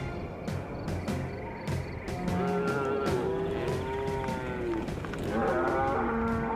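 Grass-fed cattle on the vast Chico Basin Ranch moo repeatedly, several long, drawn-out calls overlapping from nearby animals over steady outdoor background noise, with no talk.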